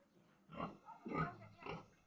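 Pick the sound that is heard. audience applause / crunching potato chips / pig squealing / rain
pig squealing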